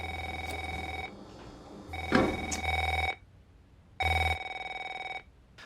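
Ringtone and vibration effect of a mobile phone, used in producing a blues song: three bursts of electronic ringing with a low buzzing hum underneath, separated by short pauses, clear and close with no voices.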